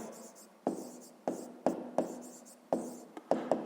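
A pen or marker writes out numbers in a fifth-grade maths lesson, a series of short scratchy strokes in irregular rhythm, about ten distinct marks separated by brief pauses in a quiet room.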